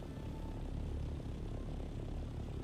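Ornithopter from the video game Dune: Awakening flying nearby, a steady, dense engine-like drone with rotor rumble that holds at constant loudness throughout, with no talking.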